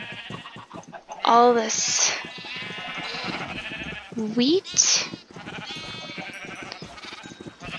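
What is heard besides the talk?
sheep bleating in Minecraft video game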